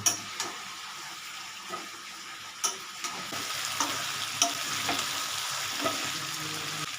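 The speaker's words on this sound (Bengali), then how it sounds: "এটা একটু কষা কষতে থাকুক হ্যাঁ তারপর আমি বাকি ইনগ্রিডিয়েন্টগুলো দেবো" Chicken curry sizzles and fries in a pan while being sautéed, a steady soft hiss broken by several sharp scraping stir clicks, fairly close with no talking.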